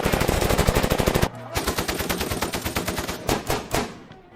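Machine-gun fire from the action film Special Forces rattles in loud, rapid, steady bursts, with a brief break before more sustained automatic shooting, alone and close.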